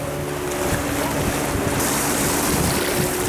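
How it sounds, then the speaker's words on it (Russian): Sea waves wash around the legs of someone standing in shallow water off the Kinburn Spit, with swirling current and wind rushing over the microphone in a steady loud roar. "Волны с одной стороны, течение с другой."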